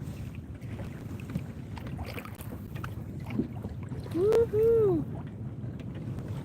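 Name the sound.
wind on the water while kayaking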